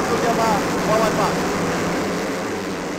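Yamaha racing motorcycles in a CP 115 final race at Temerloh roar past, a loud continuous engine whine that slowly fades, with a faint voice underneath.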